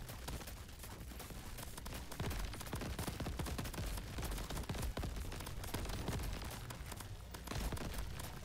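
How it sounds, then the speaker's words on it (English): Continuous gunfire from the Crab Champions video game, a steady dense barrage of shots running the whole time at moderate level with scattered bursts layered over constant game noise. "Just shooting where the health bars are"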